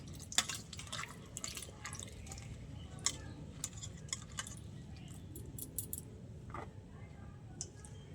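Cut pointed gourd and mixed vegetables are rinsed piece by piece in water, giving faint scattered splashes, drips and small clinks against a soft background hum.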